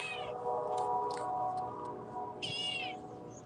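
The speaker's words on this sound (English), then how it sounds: "I hear the damn cat." A cat meows indoors, with a couple of faint, plaintive cries. A clearer, drawn-out meow comes near the end over quiet room background.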